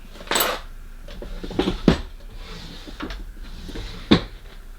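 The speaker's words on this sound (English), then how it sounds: "Looking in my drawers." Clattering and knocking of objects being shuffled around, with several sharp clinks like utensils and a drawer or cupboard moving, close and irregular.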